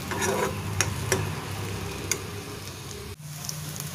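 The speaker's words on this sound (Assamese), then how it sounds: "আলুখিনি অকণমান সময় ভাজিম" Steady crackling sizzle of potatoes frying in a pan, with a few sharp ticks and clinks; the sizzle drops off briefly near the end, then resumes.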